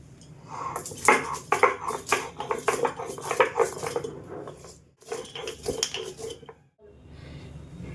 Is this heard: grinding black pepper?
yes